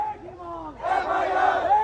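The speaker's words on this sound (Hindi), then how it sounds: "हॉस्पिटल के विरोध के नारे लगा रहे हैं।" A protest crowd outside a hospital in Jhunjhunu shouts slogans together, a single voice calling out before the massed chant surges in loud and close.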